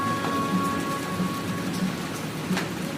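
Steady rain falls on grass and a roof, a dense even hiss with scattered drops and faint low rumbles beneath, with no talk.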